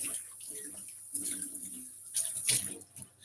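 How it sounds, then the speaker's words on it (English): Water from cooked beef for Nigerian banga soup drains through a sieve in a quiet, steady splashing trickle that swells briefly in places, soft and close. "I want to sieve out the water from the beef."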